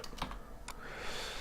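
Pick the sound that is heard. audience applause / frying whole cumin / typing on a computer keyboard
typing on a computer keyboard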